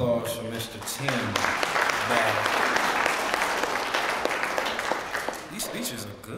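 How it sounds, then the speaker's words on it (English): Applause from the audience at a speech contest: a sustained, dense wash of clapping at moderate distance, steady for several seconds before easing off, with a voice speaking over its start and end. "One more round of applause for Mr."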